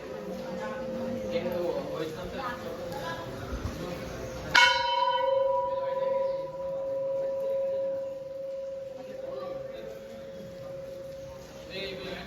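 A temple bell is struck once and rings on with a long, shimmering tone that slowly fades. Voices chatter before the strike and continue faintly beneath it.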